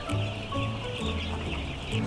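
Thirteen-day-old Ross 308 broiler chickens cluck steadily as they are let out in a poultry farm shed, a dense flock chorus over a constant background hum.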